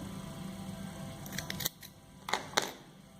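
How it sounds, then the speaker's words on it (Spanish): Scissors snip through crochet yarn twice, with a pair of sharp, close cuts set against a quiet room and a low background hum. "Cortamos el hilo"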